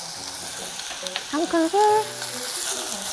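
Minced garlic sizzling and frying in a hot pan, a steady crackle with a few stirring scrapes, while a person speaks briefly over it.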